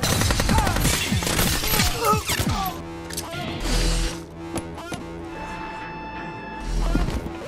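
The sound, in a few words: gunfire exchange in a film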